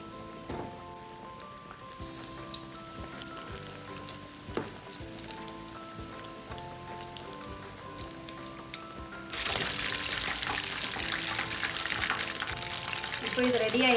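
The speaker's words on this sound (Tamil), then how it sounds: "எண்ணெயில் சேர்த்துடலாம் நம்ம." Breadcrumb-coated chicken legs fry in hot oil for crispy homemade fried chicken, a steady crackling sizzle like rain that grows louder and denser partway through as more pieces hit the oil, with background music or tones underneath.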